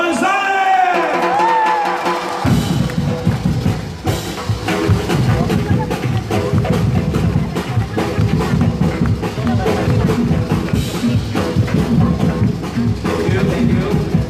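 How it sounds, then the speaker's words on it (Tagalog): Large training-event crowd giving a standing ovation, dense sustained cheering, whoops and shouts mixed with clapping and loud crowd noise, with a voice over a sound system at the start. "Salamat sa standing ovation."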